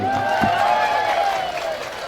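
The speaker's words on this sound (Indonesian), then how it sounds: "Tepuk tangan dulu buat ibu-ibu." At a religious sermon gathering, listeners give a short burst of applause and murmuring crowd noise for the women present, with a preacher's voice continuing over it.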